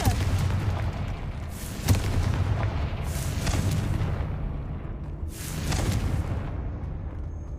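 Blasts from the Confringo fire spell in the video game Hogwarts Legacy boom out repeatedly, several sharp explosive bursts rising over a dense, rumbling background.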